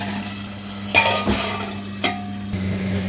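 Marinated prawns tipped into a cooking pot for prawn biryani, with a few sharp metallic clinks and clatters of utensil and lid over a low steady hum, nearby and fairly quiet.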